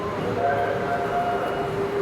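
An LRT light rail train rumbles steadily close by, with a sustained tonal whine and a low mechanical hum, plus faint voices in the background.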